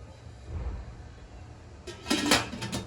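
A metal lid clatters down onto an idli steamer pot holding millet idli batter, a short bright clang with a few rattling settles near the end after a quiet stretch.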